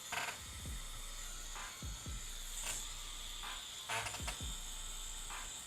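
A tattoo machine fitted with a 3-round liner needle runs with a steady, close electric buzz, broken by a few short revving surges.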